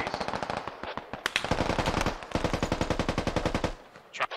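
Sustained automatic gunfire from a Squad battle: several long, rapid bursts of machine-gun fire, loud and close, with a short pause between them and a few scattered single shots at the end.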